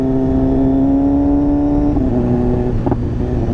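A 2015 BMW S1000RR motorcycle fitted with an SC-Project exhaust rides along at about 60 km/h in fourth gear, giving a loud, steady droning engine note with a brief shift in pitch near the end, heard close up.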